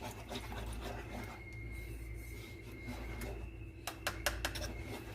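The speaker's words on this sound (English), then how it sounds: "Using our whisk, we're gonna whisk in our cornstarch." A whisk stirs cornstarch into cold milk for a butter-glazed chocolate chip pie, giving a steady scraping, rubbing swish that continues throughout, with a few sharper clicks of the whisk against the bowl near the end.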